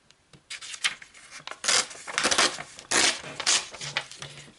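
Scissors or a blade cut through a paper envelope in short irregular rasping strokes, close and fairly quiet, with small rustles between cuts and no talking.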